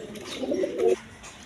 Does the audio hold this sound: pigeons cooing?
yes